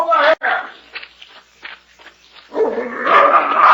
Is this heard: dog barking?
yes